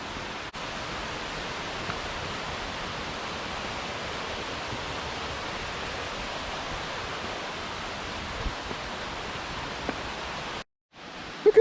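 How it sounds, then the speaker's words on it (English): Steady, continuous rush of a long mountain waterfall cascading down a canyon slope on a hiking trail, broadband and unbroken at a constant level, cutting out briefly near the end. "the water is flowing down this mountain, and it's just one continuous waterfall."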